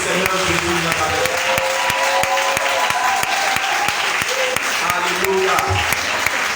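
A church congregation applauding during a Sunday worship service, dense sustained clapping with a rhythmic pulse of sharp claps, loud and close, with a voice speaking over it.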